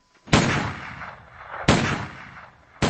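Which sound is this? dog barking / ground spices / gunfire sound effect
gunfire sound effect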